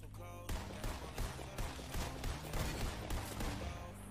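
Rapid bursts of gunfire in a Fortnite match, with loud repeated shots crackling in quick succession across the whole stretch, like sustained automatic fire close by, with no talking over it.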